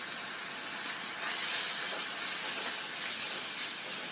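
Chili powder and turmeric sizzling in hot oil for a dal tadka, a steady close hiss of frying with no break and no talk.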